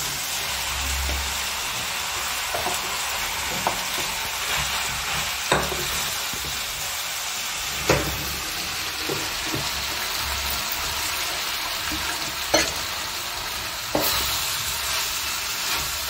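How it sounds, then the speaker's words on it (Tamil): Diced potatoes being stirred in a pan with softened onion and tomato for potato masala, giving a steady sizzle with repeated scraping strokes and occasional sharper clinks of the spoon against the pan, close and fairly loud, no talking. "வெங்காயம் தக்காளி நல்லா வதங்கின பின்னாடி உருளைக்கிழங்கு போடும்."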